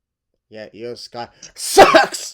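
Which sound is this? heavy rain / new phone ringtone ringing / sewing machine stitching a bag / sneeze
sneeze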